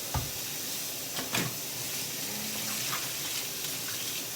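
Chickpeas are rinsed under a running kitchen tap, a steady close hiss of water with a few brief clunks and splashes as they are moved about.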